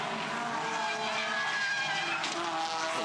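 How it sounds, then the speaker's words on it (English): Toyota 86 race car tyres squealing during a motor race, a continuous loud skidding screech with engine noise lasting the whole stretch, steady in level, with a brief extra scrape near the end. "A lot of tyre squeal,"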